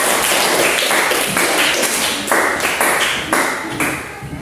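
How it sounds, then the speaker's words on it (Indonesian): Classroom applause for a student group after their presentation in an English lesson on numbers: a fairly loud, steady patter of many hands clapping, with sharp repeated taps throughout the few seconds. "tepuk tangan dulu untuk kelompok 4"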